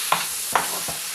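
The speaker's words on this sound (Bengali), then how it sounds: "এবার আলুটাকে আমি অ্যাড করে দিলাম। এখন কিন্তু মাছের আলুটা ভাজার প্রয়োজন নেই, এটা হালকা সেদ্ধ করে নিয়েছি। নিয়ে এবার কষিয়ে নেব।" Parboiled potatoes are stirred and fried in a pan with oil while preparing a rui fish curry, a steady sizzle under three sharp scrapes of a spatula.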